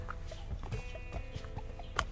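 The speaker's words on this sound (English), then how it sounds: "Can you hear the sound of the birds?" Birds call along a quiet nature trail at a giraffe centre, with short scattered chirps and clucking notes spread across a soft outdoor background and one sharper call near the end.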